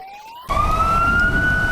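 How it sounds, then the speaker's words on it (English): An ambulance siren wails in a loud, steady rising tone that swells sharply partway through, as if it is drawing close, with no talking. "Is that an ambulance because somebody had a problem?"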